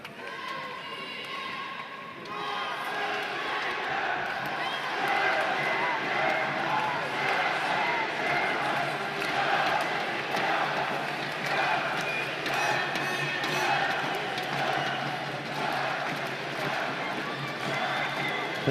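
Packed arena crowd at the men's foil team final of the 2015 fencing world championship in Moscow, Italy against Russia, a sustained loud din of voices and cheering surrounding the listener, with commentators talking over it.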